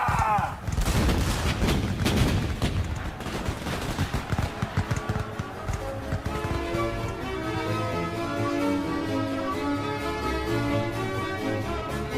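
Cannon fire booms from a Napoleonic-era sailing warship in a naval battle, several heavy blasts in quick succession up close and loud, then fading into a sustained orchestral music bed.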